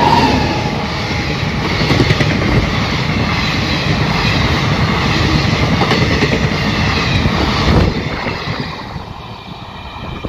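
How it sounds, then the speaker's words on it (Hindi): A train passes on the rail line toward Raipur, a loud, steady roar of wheels and carriages with rhythmic clacking close by. Wind buffets the microphone, and the noise eases slightly near the end. "भागी गला देखो ट्रेन"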